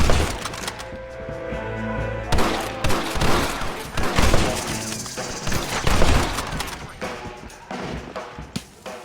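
Gunfight in Red Dead Redemption: dense, irregular volleys of gunshots with sharp cracks and booms over a steady musical score, a loud, busy exchange of fire throughout with little pause.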